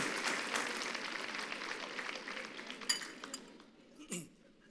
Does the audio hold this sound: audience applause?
yes